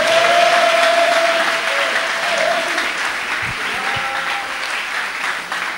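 A church congregation applauding the Lord: steady, dense clapping from a crowd filling the room, with a faint sustained tone and some voices underneath.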